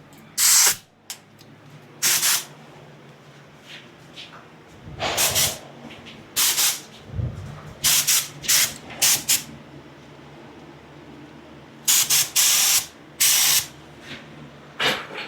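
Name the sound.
paint spray gun spraying urethane primer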